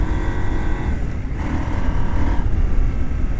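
A KTM 790 Adventure motorcycle in off-road mode, ridden off-road with the rider standing up, a loud, steady engine drone mixed with wind rush that dips briefly and swells again, close and without talking.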